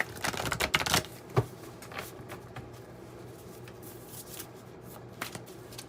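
A tarot oracle card deck being shuffled close by, a quick flurry of riffling card snaps in the first second, then quieter scattered shuffles and taps of the cards, with no voices.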